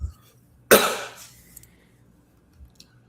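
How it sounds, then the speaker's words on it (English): A single sharp cough, close and fairly loud, followed by quiet with a couple of faint clicks. "If y'all heard me cough, I do apologize."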